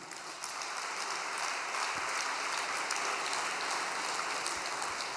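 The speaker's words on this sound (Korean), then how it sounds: "박수 한번 드립시다" Steady, dense applause from a congregation at a religious gathering in Korea, a continuous wash of clapping holding at an even level for the whole stretch, with no voices.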